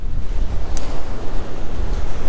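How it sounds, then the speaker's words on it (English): Strong wind blows on the Solent shore, with loud continuous gusty rumbling buffeting the microphone and surf washing beneath it, and no one speaking. "It's really quite windy this morning"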